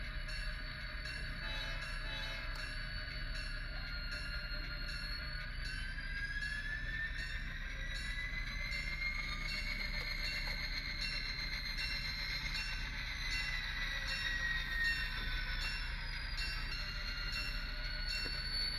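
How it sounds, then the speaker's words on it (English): Illinois Central Gulf locomotive pulling a short way forward at the steel works yard, a steady low engine rumble under faint squealing wheels and ringing tones, continuous and moderately distant. "The locomotive will now pull forward to clear the switch."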